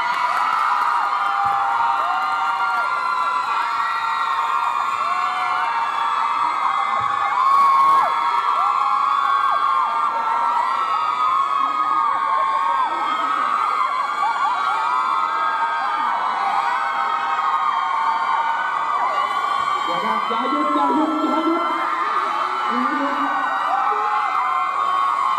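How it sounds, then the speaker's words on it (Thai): Recorded screaming and cheering from a crowd, played over a sound system at a fan meet-and-greet, sounds as a dense, steady roar of shrill voices and whoops that runs through the whole stretch with no gaps. "ตรงนี้เนี่ยเขาอัดเป็นเสียงกรี๊ดแล้วก็มีเครื่องเสียงมาตรงนี้ด้วยนะฮะ"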